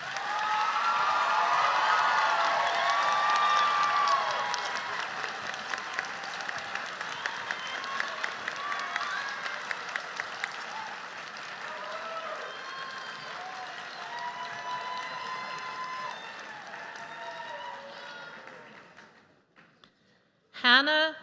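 Sustained audience applause for a set of graduates at a Class of 2025 graduation ceremony, steady clapping with some cheering that gradually thins and stops near the end.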